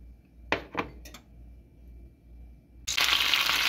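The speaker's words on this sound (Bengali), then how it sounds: "ফ্রাই প্যানটি বসিয়ে দিলাম, এখন আমি একটু তেল দিয়ে দিব।" A frying pan clinks down onto a stove burner with a few quick metallic knocks, then after a short pause a loud, steady sizzle bursts in as oil hits the hot pan for a Bangladeshi pigeon curry.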